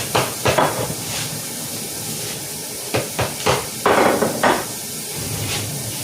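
Fish and vegetables steam in a covered pot for a Jamaican-style dish, giving a steady hiss and sizzle broken by several sharp knocks and clatters of the lid and utensils at close range, with no talking.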